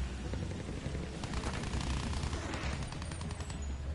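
Rapid gunfire in the Battlefield 1 campaign, a steady dense stream of shots with booming low end filling the whole stretch, loud and continuous with no voices.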